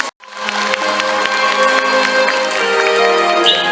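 Concert crowd in a large arena applauding and cheering to welcome a singer on stage, a loud sustained roar of clapping starting abruptly, with band tones ringing underneath.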